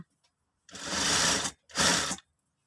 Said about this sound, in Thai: เย็บมาเรื่อย ๆ นะคะ แต่ว่าจะต้องไม่เย็บทับยางยืดนะคะ